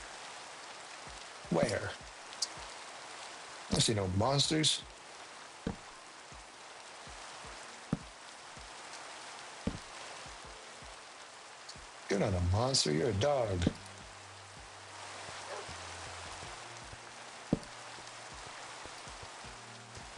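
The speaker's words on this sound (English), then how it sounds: "Oh, we get to sleep in the rain" Steady broadband patter of rain in the Minecraft video game runs through the whole stretch, soft and even beneath a person talking, with occasional game clicks and a low tone near the end.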